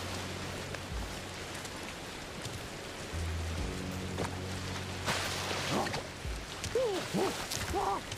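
Rain falls steadily in the video game Ancestors: The Humankind Odyssey, a constant dense hiss of drops with a low rumble underneath and faint creature calls near the end.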